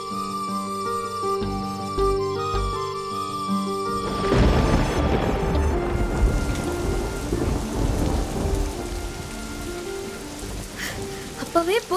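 Heavy rain pours steadily with rolls of thunder, building into a dense, loud downpour after a few seconds of music-like tonal sound, with a sharp crack near the end.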